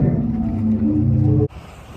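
Wind roars on a blustery seaside beach in Zadar, Croatia, a heavy, close, low rumble buffeting steadily. It cuts off abruptly midway, leaving a quieter hiss of wind and surf.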